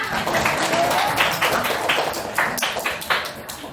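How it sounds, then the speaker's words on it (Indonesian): School students in a junior high classroom clap their hands together in a loose, uneven burst of applause, moderately loud and close, lasting a few seconds. "Tepuk tangan untuk kita semua."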